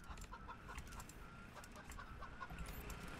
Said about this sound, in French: Faudrait les ramener un jour, peut-être, les poulets.